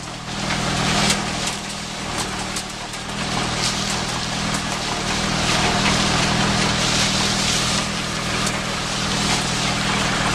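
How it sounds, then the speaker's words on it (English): A big hop stripper machine runs steadily with a tractor and trailer during a hop harvest in Yakima Valley, Washington, giving a loud, continuous mechanical rumble and whir with no voices. "These women are feeding the vines into this big stripper."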